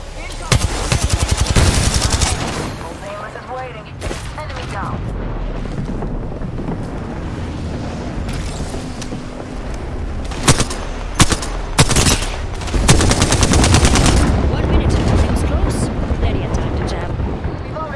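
Rapid gunfire in the Apex Legends video game, with bursts of automatic shots and sharp single cracks scattered across a loud battle, plus speech and game callouts.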